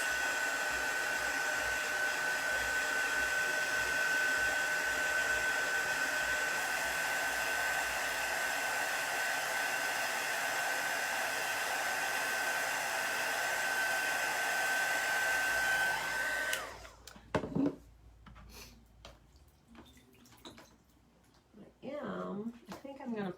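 Hair dryer running steadily and loudly to dry chalk paint on a pallet board for about seventeen seconds, then switched off, leaving quieter handling noises and a voice.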